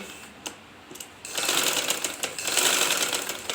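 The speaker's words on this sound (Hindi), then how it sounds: "एक पैर का मार्जिन छोड़ते हुए हमने दूसरी सिलाई अपनी मुकम्मल करनी है" Sewing machine stitching a second seam one presser-foot width from the edge, heard up close with a few brief bursts followed by a sustained rapid run of stitching that speeds up and holds steady.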